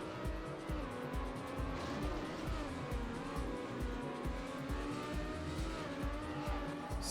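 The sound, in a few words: race car tires skidding in TrackMania Nations Forever video game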